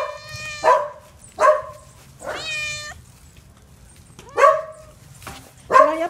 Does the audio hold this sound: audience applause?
no